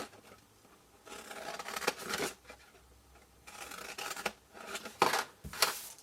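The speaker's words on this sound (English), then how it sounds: "And cut up the score lines." Scissors snipping through card along score lines for a small papercraft daisy box, several short bursts of close crisp cutting with brief pauses, no talking.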